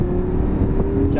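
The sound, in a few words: car accelerating during a driving lesson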